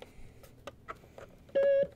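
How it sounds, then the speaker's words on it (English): A faint tapping of buttons, then a single clear electronic beep from a bright toy keyboard found at a thrift store, held briefly and fairly loud. "it's just a really nice, bright toy keyboard"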